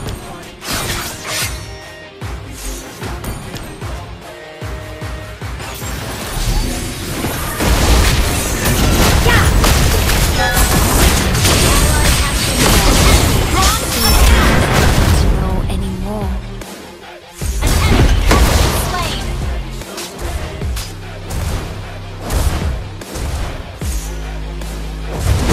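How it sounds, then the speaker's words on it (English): A turret is destroyed during a video game match, amid a long dense barrage of booms, shattering crashes and game music that stays loud throughout, dips briefly, then surges again. "Turret has been destroyed."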